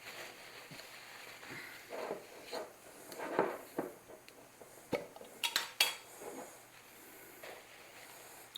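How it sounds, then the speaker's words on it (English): Wiping crumbs out of a hot cast iron skillet, quiet close rubbing and scraping strokes in uneven bursts, with a few light metallic clinks and a faint steamy hiss underneath. "I'm just going to wipe out the skillet. Just get any crumbs out."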